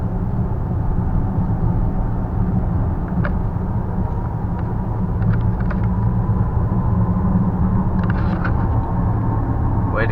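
Volvo XC90 SUV on 21-inch tires leaving a highway by an exit, heard from inside as a steady low road and engine rumble with constant tire noise and a few faint ticks, no voices.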